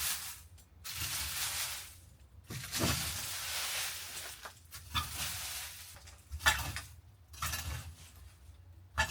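A shovel digs into soil to make a hole for planting a young citrus tree, giving repeated close scraping crunches in uneven bursts with short pauses between them.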